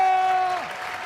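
Studio audience applause greets the first-level winner on the Malayalam TV game show Super Bumper: a dense, steady burst of clapping with a sustained musical tone that fades partway through.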